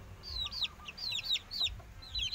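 A young rooster, a Saigon and Pama crossbreed fighting chicken, gives a run of short, high clucking and chirping calls in quick bursts, close by, over a low rumble of background noise.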